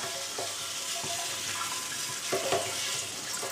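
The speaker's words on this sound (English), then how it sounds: "After that I will fill the keg again with some fresh tap water" Running tap water pours steadily into a keg, a soft hissing splash with faint clinks, fairly quiet and without voices.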